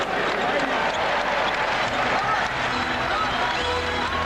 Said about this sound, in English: This crowd urging the Lakers on.